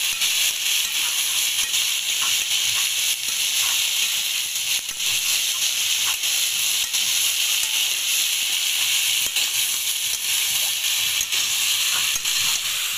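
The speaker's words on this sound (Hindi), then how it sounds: "मैं इसको अच्छी तरह से भून देती हूँ" Food fries in a pan on a wood-fired chulha stove, giving a loud, continuous sizzling hiss with faint crackles throughout and no voices.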